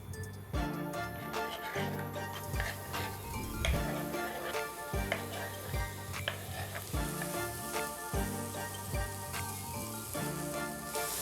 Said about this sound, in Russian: И пока морковь и лук обжариваются